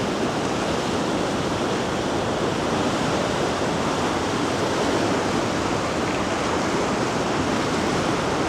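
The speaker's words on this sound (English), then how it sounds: "Listen to this water coming out of the floodgate." Water rushes out of a dam floodgate at Martins Fork Dam in Harlan, Kentucky, in a constant, dense roar, loud and unbroken with no voices.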